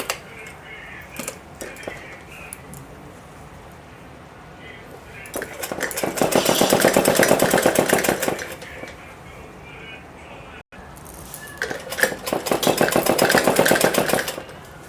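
Electric sewing machine stitching the sleeve seam of a suit for a 15 to 16 year old girl, running in two loud rapid bursts with a pause between, over a steady background hum; a voice talks lightly at the start.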